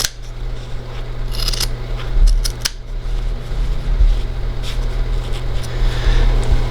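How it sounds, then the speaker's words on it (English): Scissors cutting through pool table cloth during cloth installation on a slate table: a few crisp snips and slicing sounds close by, spread over several seconds, with a steady background hum and no talking. "using some good scissors or a knife, you want to make your first cut up towards the staple."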